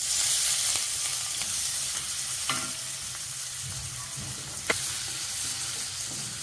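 Onions and spices frying in oil for chicken kulambu, a steady close sizzle throughout with a few sharp clicks from stirring.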